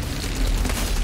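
An explosion in the video game Outriders, a dense low rumbling boom that fills the moment with broad noise and a slight swell midway.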